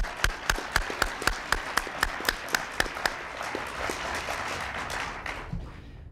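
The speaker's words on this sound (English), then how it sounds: "Applause." Applause at a presidential science medal ceremony: a series of regular, sharp claps rings out in an evenly spaced rhythm, then gives way to softer, scattered clapping and room noise.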